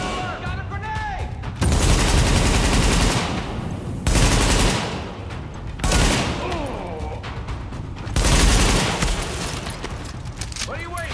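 Bursts of automatic gunfire and explosions from the video game Tom Clancy's The Division come in loud repeated volleys with brief lulls, while in-game voices shout over the combat.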